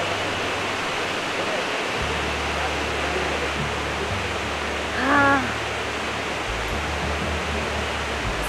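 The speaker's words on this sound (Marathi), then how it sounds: "ढवळा धबधबा म्हणतात" Dhavla waterfall in a forest village, a steady broadband roar of falling water running throughout, with a brief faint chirp-like sound midway.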